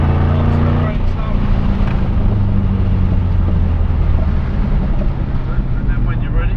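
A loud Mustang Shelby GT500 engine roars steadily nearby on a race track, its pitch shifting as it revs and pulls, with a voice talking over it.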